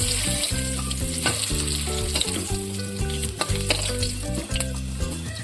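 Rohu fish fries in hot oil with a loud, close, crackling sizzle, while a rhythmic pattern of clunking or tapping beats runs through it without pause.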